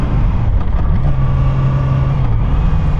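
A 2007 Yamaha R6 motorcycle engine droning loud and close under a ride, its pitch stepping down as it downshifts, with no talking.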